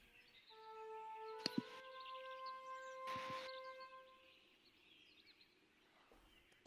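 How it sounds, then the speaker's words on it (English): Soft ambient birdsong plays as background atmosphere during a tabletop roleplaying game session, with sustained whistling tones and a couple of brief chirps, faint and distant, no voices over it. "I'll also lower our birds here"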